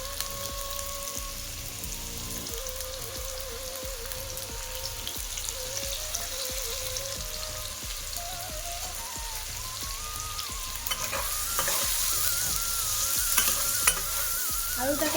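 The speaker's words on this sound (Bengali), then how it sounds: "এবার ডুমো ডুমো কেটে রাখা আলুগুলো তেলের মধ্যে দিয়ে দেবো" Diced potatoes fry in hot oil with salt and turmeric, a dense continuous crackling sizzle that swells louder near the end, punctuated by a few stirring scrapes, close and without voices.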